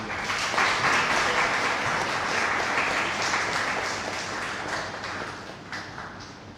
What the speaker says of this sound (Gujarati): હર્ષાબેનને તાળીઓથી વધાવીએ.